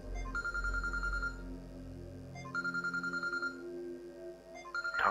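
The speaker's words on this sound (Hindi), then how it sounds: "डॉक्टर आमिर का फोन?" A phone rings in repeated electronic trilling bursts, three rings with short pauses between them, clear and close with no voices.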